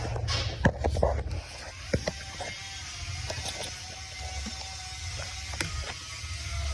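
A plastic electrical connector is unclipped and popped off the engine of a 2017 Ford Explorer 3.7 during intake manifold removal, giving a few sharp close clicks and mechanical rattles with no speech.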